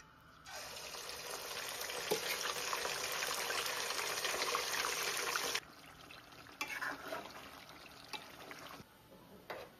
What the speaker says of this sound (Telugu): మరీ ఎక్కువ ఫ్రై చేసుకోవద్దు, కొంచెం గోల్డెన్ కలర్ వచ్చే వరకు ఫ్రై చేసుకుంటే చాలు